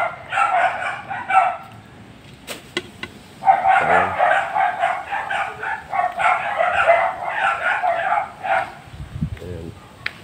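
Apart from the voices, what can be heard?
dogs barking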